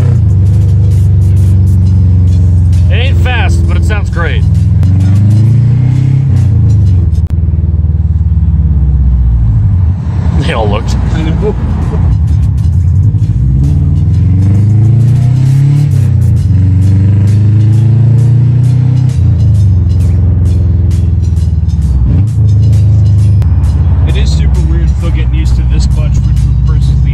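A Subaru Outback engine runs steadily with a deep rumble that swells and falls as it revs, close and loud throughout, while people talk over it now and then.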